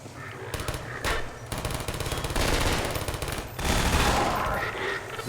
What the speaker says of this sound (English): Letting my turret do all the work.